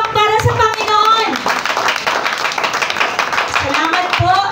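A church congregation claps for the Lord, a dense stretch of hand clapping running the whole time beneath loud speech from a voice addressing the room.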